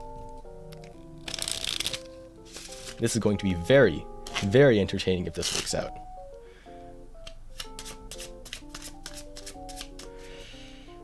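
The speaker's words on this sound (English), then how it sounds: "Let's keep giving these some shuffles." A deck of playing cards is shuffled in quick riffling bursts, with a person talking over the shuffles and soft background music throughout.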